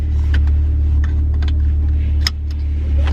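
A Maserati Quattroporte S Q4 idles with a steady, loud low engine drone, a few light clicks and rattles on top, and a brief dip in the rumble as it starts to pull away.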